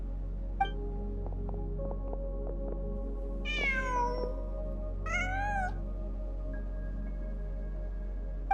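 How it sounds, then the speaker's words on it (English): A cat in the video game Genshin Impact gives two clear, close meows, a longer drawn one and then a shorter one, over a quiet electronic game hum with a few soft ticks. "Huh. Just a cat."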